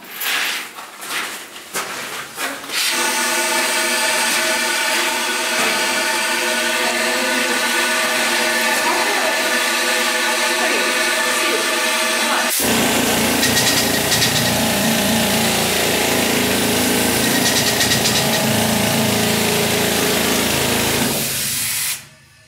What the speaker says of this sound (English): which allows the drillers to drill at almost any angle with a lot more ease